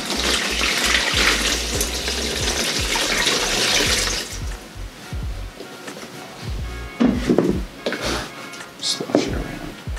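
Water sloshes and splashes in a bucket holding about a gallon of water mixed with hydrogen peroxide for reverse tie dye, a steady close wet churning with brief louder swishes near the end.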